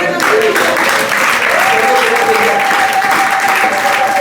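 Sustained applause from a congregation during a Sunday church service, a dense steady wash of clapping with a sung or held voice tone running over it.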